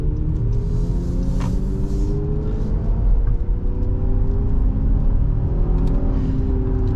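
A 2022 Honda Pilot TrailSport heard from inside while driving through an S-turn near an on-ramp, a loud steady engine and road rumble with a faint whine, continuous throughout.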